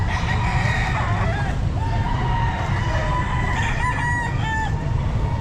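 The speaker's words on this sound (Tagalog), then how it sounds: "Murang manok." Roosters crow and chickens cluck at a busy Calumpit pet market, several birds calling in overlapping bursts above a constant crowd din, with some crowing standing out near the end.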